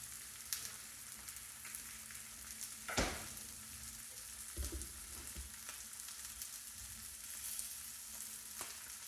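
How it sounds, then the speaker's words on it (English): Indian mackerel fillet searing flesh side down in a pan, a steady quiet sizzle with a few brief clatters and one sharper knock near the start, no voices. "And then you're just looking for a quick sear to finish off the"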